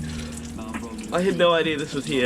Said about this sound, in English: A hot shower in the middle of nowhere, look.